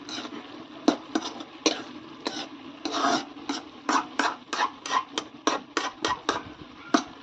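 A spoon scrapes through jackfruit seed thoran in a pan in about a dozen quick, rhythmic rasping strokes, close and clear, with no talking.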